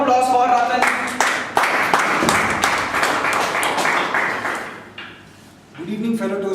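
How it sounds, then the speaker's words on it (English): At a Toastmasters meeting, an audience gives a round of applause with sharp, uneven claps that fade out, followed by a speaker starting to talk. "give her a round of applause"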